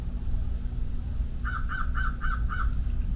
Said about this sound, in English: there's a bird giving sound effects to the painting